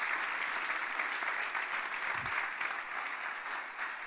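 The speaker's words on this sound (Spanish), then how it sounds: "Démosle un aplauso al Señor porque Dios fue bueno con nosotros." A church congregation applauds, a continuous dense clapping from a crowd that holds steady for several seconds at moderate distance.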